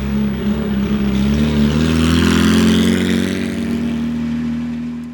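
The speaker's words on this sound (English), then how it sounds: "I drive a 1957 Abarth Zagato 750 GT double bubble Corsa" A 1957 Abarth Zagato 750 GT double bubble Corsa drives with a loud, close, buzzy small engine that rises steadily in pitch as it accelerates, then eases off slightly toward the end.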